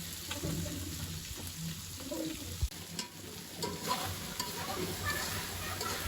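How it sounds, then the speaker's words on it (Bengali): Curry sautéing in oil in a home kitchen, a quiet steady sizzle with intermittent stirring scrapes and a sharp clink near the middle. "তো তরকারিটা কষাই নিচ্ছি"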